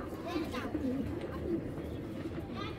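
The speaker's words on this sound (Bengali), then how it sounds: "কবুতরটা খুবই অস্থির।" A restless pigeon gives low, soft coos in a noisy setting, with a few brief rising notes over a constant background rumble.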